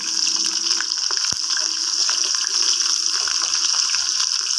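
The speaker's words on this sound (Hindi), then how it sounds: "प्याज को मैं अच्छे तरीके से फ्राई करूंगी जब तक मेरे गोल्डन प्याज होते हैं।" Onions sizzle in hot oil with cumin seeds and bay leaf, giving a steady, bright, hissing fry noise that carries on throughout with a brief clink partway.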